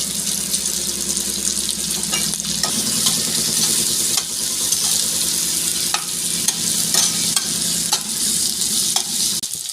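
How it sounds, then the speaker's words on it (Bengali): Chopped onion fries in a pan with oil alongside ginger, a steady close sizzle broken by sharp scraping stirs of a spoon against the pan, with no voices. "এই কুচোনো পেঁয়াজটা দিয়ে দিলাম"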